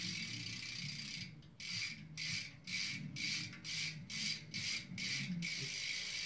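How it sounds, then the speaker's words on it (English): A freshly greased bicycle rear wheel, an old back rim, spins freely with its freewheel pawls ticking in a fast, even ratchet that slows gradually as the spin winds down, close and clear with no voices. "Let's see if she spins any better now that I put some grease in there"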